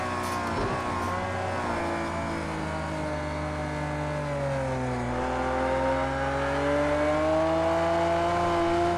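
Lamborghini Veneno engine in the racing game Project CARS 2, a loud sustained rev with rising and falling pitch as the car accelerates and shifts, steady throughout with no talk.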